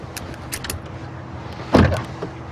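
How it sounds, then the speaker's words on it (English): A car's power door locks actuate with one sharp mechanical clunk in the cabin, preceded by faint clicks and rustling. "Power door locks, standard, of course."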